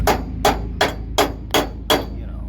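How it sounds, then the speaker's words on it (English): Six evenly spaced metallic hammer blows ring out close and loud during a muddy off-road weekend, each strike sharp with a short ringing decay over a low background rumble. "I got a solid hammer if you need one"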